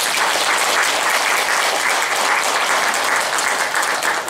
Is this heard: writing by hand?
no